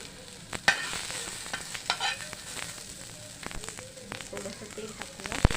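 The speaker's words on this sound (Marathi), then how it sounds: "पहिल्यांदा आपण याच्यामध्ये पॅनमध्ये कांदा आणि खोबरं भाजून घेणार आहे।" Onion and coconut roast in a pan with a soft, crackling sizzle. Frequent stirring clicks and scrapes of a spatula run throughout, close by.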